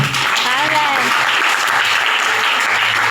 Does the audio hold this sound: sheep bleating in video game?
no